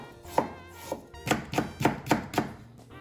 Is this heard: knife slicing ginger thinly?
yes